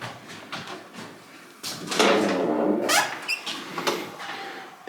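A heavy old wooden door at a historic reconstructed fort swings and bumps shut with several knocks and creaks, loud and close, followed by rattling of its latch.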